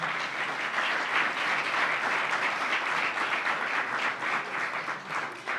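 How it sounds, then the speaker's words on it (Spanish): Steady applause from an audience at a gathering honoring Ecuadorian Olympic athletes, a dense even wash of clapping that holds at a constant loud level throughout with no voices over it. "Así que a la distancia un aplauso"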